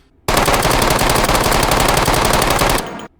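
Sustained full-auto gunfire from a weapon in the H3VR virtual reality shooter, a dense, loud, continuous burst of rapid shots lasting nearly three seconds, heard alone before cutting off abruptly.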